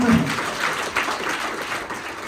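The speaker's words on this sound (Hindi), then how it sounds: "जरा मोदी के लिए ताली तो बजाइए" An audience at a traders' gathering in Sagar, Madhya Pradesh breaks into steady applause, a dense wash of clapping that fades slightly over a couple of seconds.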